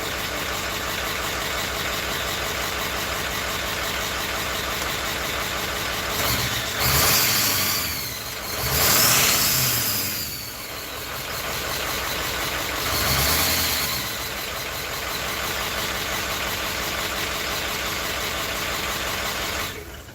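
A diesel truck engine idles steadily and loudly up close, with a few brief revving surges and rattles along the way.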